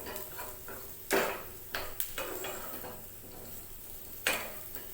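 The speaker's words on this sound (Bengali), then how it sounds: "তো এটা আমি ভেজে নিচ্ছি" Spices such as cinnamon, cloves and red chilli frying in a pan for a South Indian kootu paste: scattered scraping and clattering stirs with brief sizzling bursts over a low background hiss.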